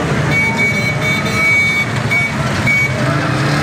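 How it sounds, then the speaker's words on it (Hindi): Dense road traffic during a jam on Ferozepur Road, with a continuous loud rumble of car and truck engines close by and a faint beeping tone running through it. "ट्रैफिक जाम हुई है।"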